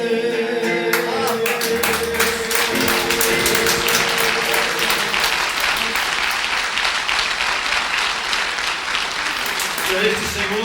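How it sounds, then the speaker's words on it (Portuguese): A church congregation applauding during a service, sustained dense clapping from a crowd that fills the room, loud and steady throughout after a brief lead-in of speech and music. "já que estão aí os nossos aplausos"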